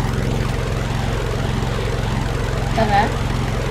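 Propeller plane engine in the video game Stormworks, a loud, steady droning hum with a pulsing low throb that runs unbroken throughout, with a brief faint tonal blip near the end.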